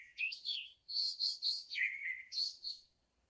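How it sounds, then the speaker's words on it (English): An AI-generated sound effect of birds chirping: several quick, bright tweets in a bouncy run, fairly quiet and clean, with no voices. "Birds chirping."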